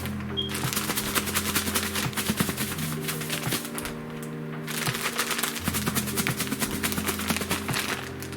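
Pieces of grass carp are shaken hard inside an air-filled bag of coating, making a steady, rapid, dense rattle that runs without a break over a faint low hum.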